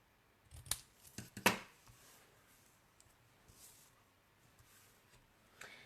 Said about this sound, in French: Donc là, je coupe un petit peu en biais.